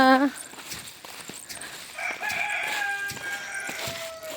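A rooster crows loudly nearby while hens cluck around it, and a person's voice comes through briefly.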